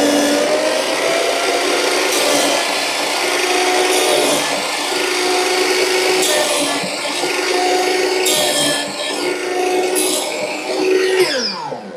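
A Bosch miter saw with a single blade cuts through wood, a loud continuous whining and rasping buzz that holds steady for several seconds with brief surges as the blade bites.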